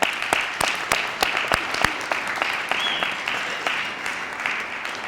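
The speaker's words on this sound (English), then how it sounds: "One more round of applause for you." An audience at a high school award ceremony applauds steadily, with sharp individual claps standing out near the front of a dense wash of clapping and no voices over it.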